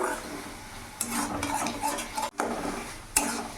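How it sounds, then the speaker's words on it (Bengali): Spice masala for soybean curry is stirred and fried in a pan, giving continuous scraping and stirring strokes against the metal with a light sizzle beneath and a couple of sharper knocks, close by. "মশলাটা ভালো করে কষিয়ে নেব যাতে কাঁচা গন্ধটা ভাবটা না থাকে"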